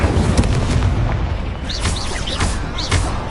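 Incendio fire spell cast in Hogwarts Legacy, heard as booming bursts and whooshing blasts within dense, continuous battle noise, with short rising magical tones flickering through.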